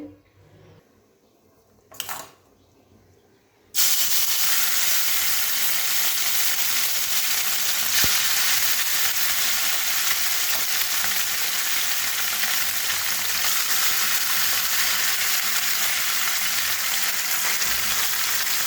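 Small kachki fish fry in a pan with a loud, steady, close sizzle that starts suddenly after a few seconds of near-quiet and holds unbroken to the end.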